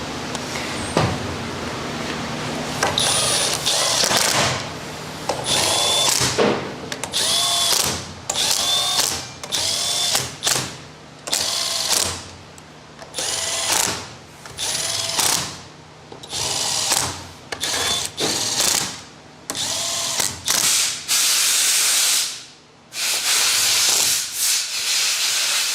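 A power tool tightening engine case bolts on a 2023 GasGas 500 motorcycle, loud close whirring bursts repeated many times in a steady on-off rhythm, each run lasting about a second or two.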